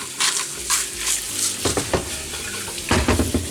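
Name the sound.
eggs with spinach frying in a pan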